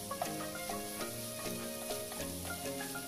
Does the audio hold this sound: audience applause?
no